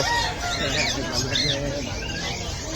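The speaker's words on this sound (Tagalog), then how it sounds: "Ito may mga black chick pa rin sila dito." Black chicks clucking and peeping among caged birds at the Bocaue pet market, a close, busy chatter of short calls over a crowded background, with people talking nearby.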